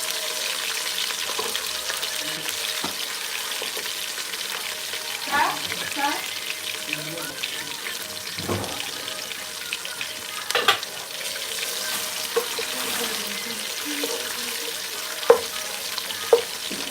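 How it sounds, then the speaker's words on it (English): Onion sizzling and frying in hot oil for jollof rice, soft steady crackle with occasional stirring scrapes and clinks of a utensil, fairly quiet and close. "Next thing that goes in is onion."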